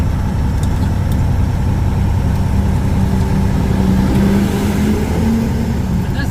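Semi truck pulling an empty trailer up at an Amazon facility in Matteson, Illinois, a loud steady diesel engine drone from inside the cab with a slowly shifting pitch.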